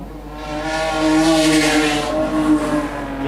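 A Heavy Metals class race car runs down the back straight of an oval track, its engine drone steady and loud throughout with a slight swell in the middle, no voices over it.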